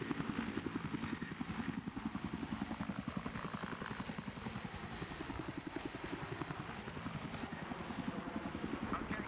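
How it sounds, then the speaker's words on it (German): Helicopter from the Battlefield 3 multiplayer video game, a steady rapid rotor chop with even rhythmic thumping throughout, close and continuous over a constant engine whine. "Ich setze mich mal mit der Igla in den Heli."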